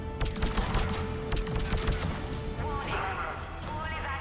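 Rapid gunfire from the video game Mass Effect 3, dense bursts of shots and impacts close up over a loud rumbling backdrop, easing into a softer ringing tail.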